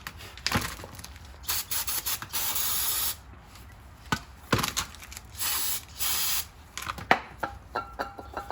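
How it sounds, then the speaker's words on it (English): Brake cleaner sprayed in several hissing bursts onto front brake parts of a 2011 Toyota Sienna, with clicks and knocks of handled parts between sprays; close and fairly loud, with no talking. "clean this out pretty good with a brush, and then brake clean it"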